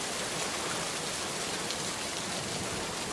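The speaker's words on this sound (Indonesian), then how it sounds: "Kita sambil buset udah hujan itu di depan." Heavy rain pours down outside in front of the building, a dense, even hiss of drops striking surfaces that holds steady throughout with no voices.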